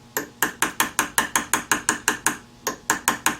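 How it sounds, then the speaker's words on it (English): A nut being tapped tighter onto a shaft to seat a bearing, heard as a close, loud series of about fifteen sharp metallic clicks in an even ratcheting rhythm with one brief pause, no talking. "But you can see I'm tapping this nut more"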